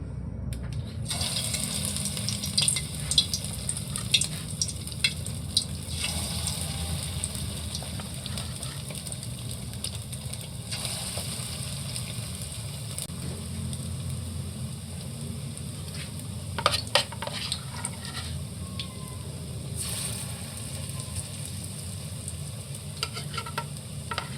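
Meatballs deep-frying in hot oil, a long, even crackling sizzle with occasional louder pops and stirring clatters, close by and with no talking.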